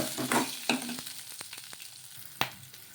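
Green chillies, garlic and ginger fry in a hot pan with a steady soft sizzle, broken by a few scraping stirs of a spoon; no one speaks.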